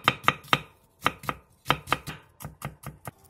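A kitchen knife chops one green and one red Cheongyang chili pepper and a quarter onion on a cutting board: a quick, close series of about fifteen sharp knocks in an uneven rhythm with no talking.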